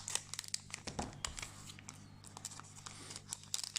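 Scissors snipping open a trading card booster pack, close and faint, with crinkling foil wrapper and brief rustles, no talking.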